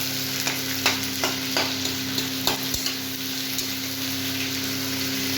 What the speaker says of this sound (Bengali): পেঁয়াজটাও ভাজা হয়ে যাচ্ছে আলুর সাথে, তারপরে ওর মধ্যেই পেঁয়াজটাকে দিয়ে ভেজে নিই।